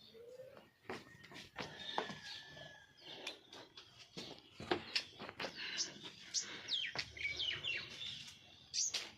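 Small birds chirping on a rooftop while being fed grain, many quick overlapping tweets and calls throughout, fairly faint and close, with rustling and a little background sound.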